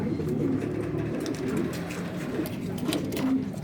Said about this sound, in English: Modena pigeon.